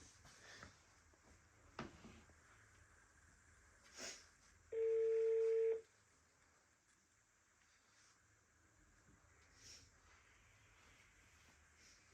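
A single steady electronic telephone keypad tone sounds for about a second in an otherwise quiet room, with a few faint clicks and knocks around it.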